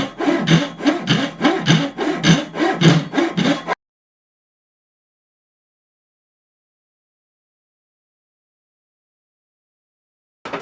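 A hand saw cuts diagonally into wood for a half lap joint, a steady run of close, loud rasping strokes for a few seconds before falling silent.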